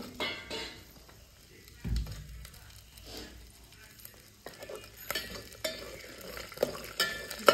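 Curry leaves and spices sizzle in hot oil in a pan, a soft frying hiss broken by sudden crackling bursts and the clink of a stirring spoon against metal.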